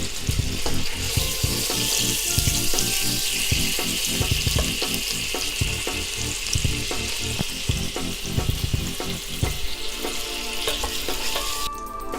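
Butter melts and sizzles in a pan for caramel vermicelli kheer, a steady hissing fizz with soft bubbling crackle, close and continuous, with a brief clink near the end and no talking.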